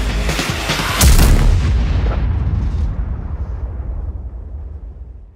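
A single powerful cannon blast from a Soviet SU-152K tank destroyer in World of Tanks booms loudly at close range, then rolls away in a long fading rumble with no talking.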